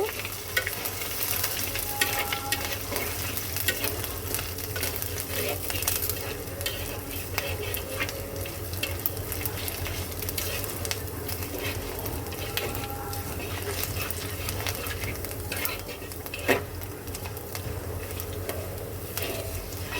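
Grated ginger and five-spice sizzling in a pan, a steady broad frying crackle throughout with scraping stir strokes from a utensil, fairly close and loud, with no talking.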